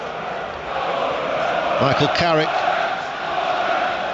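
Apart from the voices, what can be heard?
football crowd at Middlesbrough v Chelsea cup semi-final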